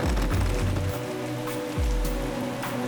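Rain pours steadily outdoors, a dense hiss of drops hitting surfaces with low rumbling gusts underneath, loud and constant throughout.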